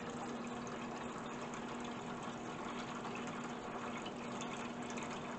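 A BrewZilla all-grain brewing system's pump transfers wort into a fermenter, giving a steady close whirring hum with a constant tone and rushing liquid flow, unbroken and alone throughout.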